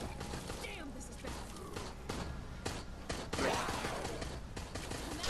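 Enemy gunfire in Resident Evil Resistance, a rapid scatter of close and distant shots with clicks and crackles, steady bursts layered over one another.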